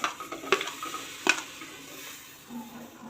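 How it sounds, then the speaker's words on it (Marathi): Green chillies dry-roasting in a pan for a pigeon pea chutney: a few sharp spatula clicks and scrapes early on over a faint, soft sizzle that fades toward the end. "मध्ये आपण मिरच्या भाजून घेऊया"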